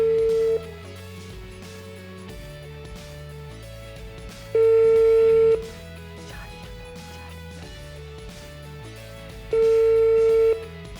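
A telephone call is placed, with repeated steady ringback tones sounding at regular intervals over a low background hum.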